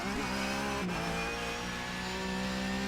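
Simulated Porsche 911 GT3 Cup car in the iRacing game, the engine held at full throttle as a loud, dense, continuous roar with a brief dip in pitch before climbing again.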